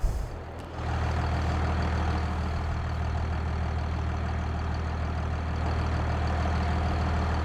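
An old tractor in Farming Simulator 22 sits idling, a steady loud low diesel rumble that holds constant throughout after a brief dip at the start, with no voices.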